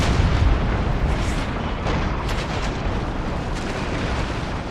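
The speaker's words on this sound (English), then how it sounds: "We've got to keep up this fire." Cannon broadside fire from sailing warships in the video game Empire: Total War, a dense continuous roar of overlapping booms and rumbling blasts, loud and sustained throughout.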